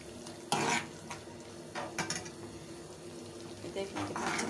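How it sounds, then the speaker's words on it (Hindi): Yogurt and masala frying in a pan, with a spoon stirring and scraping in short bursts over a low, steady sizzle. "दही मेरा अच्छे से भून चुका है"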